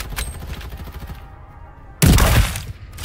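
Gunfire in the battle-royale shooter Farlight 84: a rapid stream of shots under game noise, ending in a sudden, loud close burst near the end.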